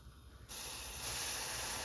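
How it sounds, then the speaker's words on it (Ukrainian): A sudden loud hiss as hot water is poured onto browned food in a hot pan, building into a steady, intense sizzle that holds to the end. "Коли вона у нас підрумянилась, заливаю її водою."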